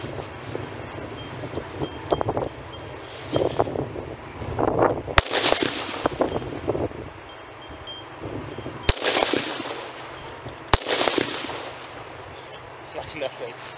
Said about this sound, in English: Shoot this Remington soft point, which was grouping up 2 inches at 70 yards.